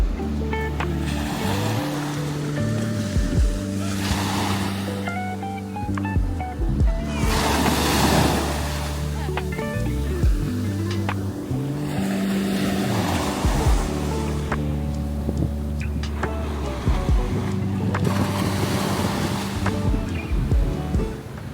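Sea waves breaking at the beach in St Ives, Cornwall, a continuous washing surf with gusts of wind buffeting the microphone and no one talking.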